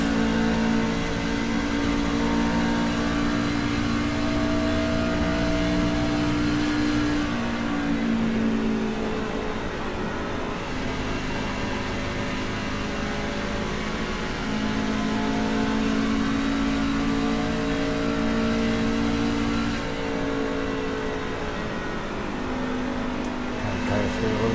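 Race truck engine in a racing video game, held at a steady high drone with shifting harmonic pitch as it accelerates and carries speed, loud and continuous throughout.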